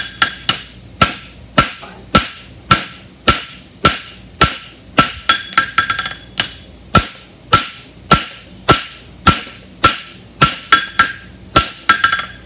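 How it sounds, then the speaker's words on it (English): A hammer strikes a horseshoe for a European hind barshoe on an anvil in a steady rhythm, with about two dozen sharp ringing clangs, close and loud. "pick up on your hammer and pull out to the corner"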